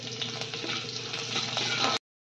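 Chopped ginger and long-cut green chillies fry in hot oil, giving a close, steady crackling sizzle with a few stirring clicks, ending abruptly.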